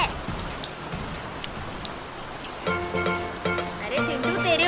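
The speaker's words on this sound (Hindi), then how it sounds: "तेरे ऊपर बारिश हो रही है" Steady cartoon rain falling, with scattered drops and a constant patter; a tonal musical sound rises in the background partway through.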